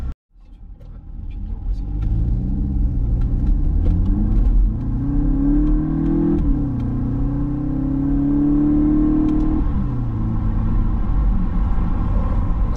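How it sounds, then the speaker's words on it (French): A 2021 Volkswagen Golf revs up hard from a standstill toward 90 km/h, a rising growl climbing through gear changes, loud and close, with steady road rumble underneath. "on va essayer de faire un départ arrêté, donc de 0 à 90"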